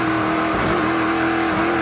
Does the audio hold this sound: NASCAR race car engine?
yes